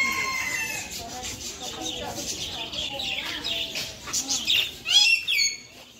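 Birds fly loose in the open aviary at Amaya View in Cagayan de Oro, Mindanao. Shrill chirps and tweets sound together with what seems to be a rooster crowing near the end, while people chat nearby.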